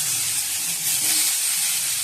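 Potatoes dropped into hot oil already seasoned with five-spice, giving a steady, close hissing sizzle with no voices.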